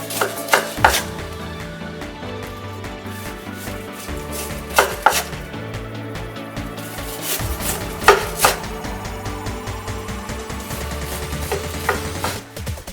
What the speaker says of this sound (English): Take it out and shake off the oil well. Cut into bite-sized pieces.